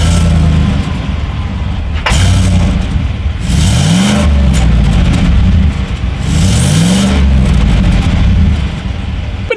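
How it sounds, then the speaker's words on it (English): A 2017 Chevrolet Silverado LTZ Z71 with a single exhaust revs up loudly several times, each rising roar falling back to a throaty idle, close and dominant. "here is that exhaust clip"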